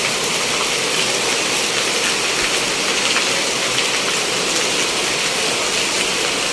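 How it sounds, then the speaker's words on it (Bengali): Heavy rain pouring steadily in a Bangladeshi village, a dense, loud, unbroken hiss of downpour that fills the whole clip with no voices. "এখন খুব বৃষ্টি হচ্ছে"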